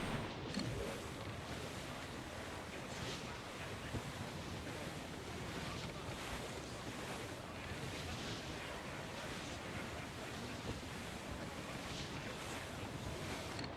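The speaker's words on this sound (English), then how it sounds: "Dark skies and rough seas there!" Rough sea surf and gusting wind roar steadily and loudly in Assassin's Creed IV: Black Flag, with waves breaking throughout under dark, stormy conditions and no voices.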